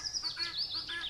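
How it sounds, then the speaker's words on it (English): A guinea fowl calls in a few quick, shrill, repeated notes, fairly faint and heard alone in one brief burst. "Guinea fowl."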